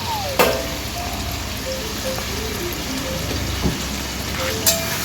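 Chili chicken sizzling and frying in a pan as tomato sauce goes in and gets stirred, a steady crackling hiss with occasional scraping clinks of the utensil.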